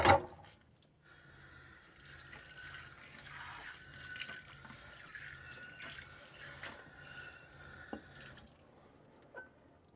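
An RV water pump in a camper at a free campsite near Seward, Alaska, runs for about eight seconds, a steady whirring hum with water-like splashing and faint clicks, then cuts off abruptly, leaving near silence.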